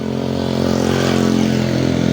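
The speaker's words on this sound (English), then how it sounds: "no muffler on the exhaust, see what I mean?" Motorcycle running with no muffler on the exhaust, a loud, steady, raspy drone that holds close and unbroken throughout.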